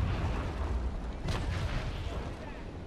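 Ship cannon fire in the naval battle game Naval Action, a dull heavy boom rising out of a constant roar of battle noise, with a second fainter report trailing after it.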